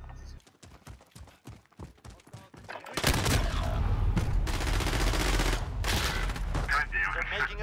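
Gunfire in Call of Duty Modern Warfare, first a string of distinct sharp single shots, then a sustained, loud barrage of rapid automatic fire.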